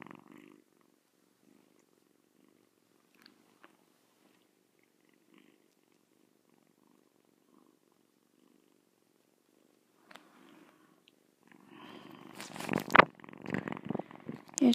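A small kitten from a litter purrs close by in a soft, low, rhythmic rumble as it settles to sleep. Toward the end, louder handling noises and rustling take over.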